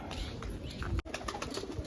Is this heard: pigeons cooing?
yes